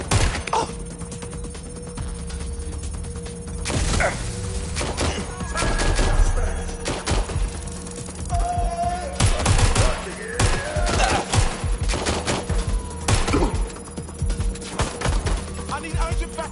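Rapid gunfire from a suspect in a video game, dense volleys of sharp shots and bursts repeating across the stretch, loud and close, with a voice speaking at times.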